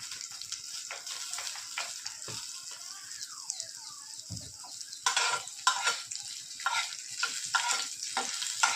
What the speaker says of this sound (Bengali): রসুনটা লাল করে ভাজা হয়ে গেলেই ডালটা দিয়ে দেবো।